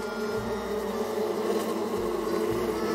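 Bees buzzing in Psychonauts 2, a steady droning hum that continues alone throughout, with low thumps in the game underneath.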